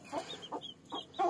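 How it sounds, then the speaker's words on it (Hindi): A hen with two chicks clucks in a coop, several soft, close clucks and chirps in quick succession, with a slightly louder call at the end. "ये माशाल्लाह से दो चूज़े हैं, और ये एक मुर्गी है"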